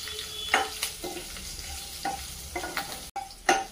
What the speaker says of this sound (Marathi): अशा प्रकारे छान असं परतून घ्यायचं.